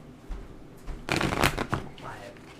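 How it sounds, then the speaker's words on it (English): A quick riffle of playing cards being shuffled, a bright papery flutter in a short burst, with faint background noise before and after. "All right, last shuffle."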